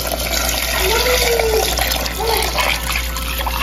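Water runs steadily into a cooking pot (degchi) being filled for nalli nihari, a continuous close splashing rush with a faint voice underneath.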